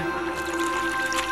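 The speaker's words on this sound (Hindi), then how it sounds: "पानी डालिए" Water poured into a cow dung mixture made with cow urine and lime, a continuous wet squishing, gurgling pour, close and steady for the whole short stretch, with a faint tonal hum behind it.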